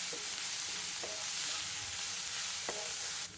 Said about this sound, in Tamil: வெங்காயம் வதங்குற அளவுக்கு கொஞ்சமாக உப்பு போட்டு